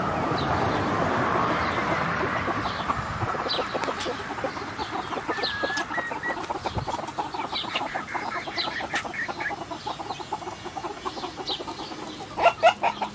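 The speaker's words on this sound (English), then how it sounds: "There's some really pretty baby chickens in here." Baby chickens cluck and peep steadily around a farmyard, with soft chirps and brief scratching noises mixed in, fairly close.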